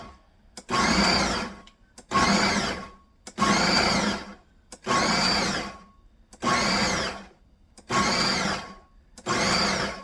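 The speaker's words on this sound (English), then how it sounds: "I put some of the cucumbers and one of the onions in here. You want to just pulse it" A food processor pulses cucumbers and onions for dill relish: seven loud, evenly spaced whirring bursts, each about a second long, separated by short silences.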